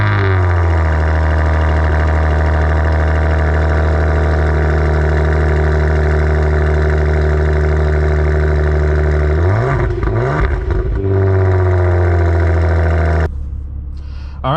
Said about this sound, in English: Now I'm going to go ahead and start this car and let you guys listen to what this engine sounds like.